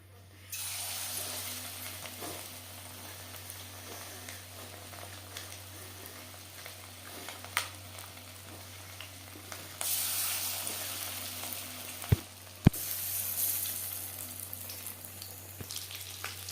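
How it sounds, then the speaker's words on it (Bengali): Battered fish chops frying in hot oil over a medium flame, giving a steady close sizzle with a brighter hiss burst midway and a couple of sharp clicks near the end. "হাই ফ্লেমে তেল আমি গরম করে নিয়েছি চপ ভাজবো মিডিয়াম ফ্লেমে"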